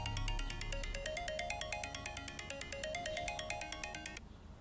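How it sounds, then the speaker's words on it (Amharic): A mobile phone's ringtone plays a bright repeating electronic melody of quick, evenly spaced notes, clear and fairly close, for about four seconds before cutting off, with no voices over it. "እማዬ፣ ስልክሽ እየጠራ ነው።"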